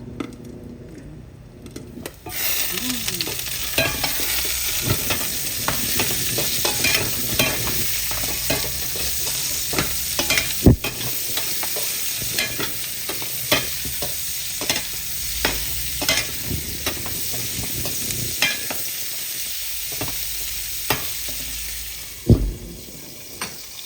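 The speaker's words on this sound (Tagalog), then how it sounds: "Ilalagay ko na po yung bawang at saka yung sibuyas." Garlic and onion sauté in a pan for mungbean and bitter melon stew, a steady loud sizzle with frequent scraping stirs of a utensil against the pan, continuous and close with no talking.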